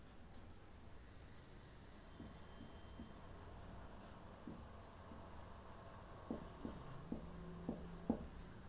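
Faint scratching and tapping of writing on a board in a quiet room, with soft strokes that become more distinct toward the end.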